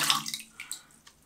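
Water beading up and dripping off coated glass of a shower door, a few light close splashes and trickling drips that fade into near silence.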